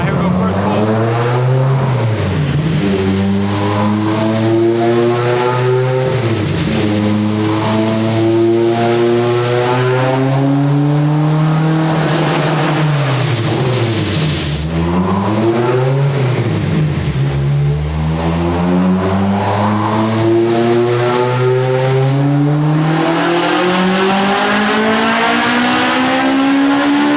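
A tuned Honda K20A engine in a Spoon-built EG chassis revs hard on a dyno pull, its loud rising and falling pitch sweeping up through repeated gear runs over nearly half a minute, steady and close without talk.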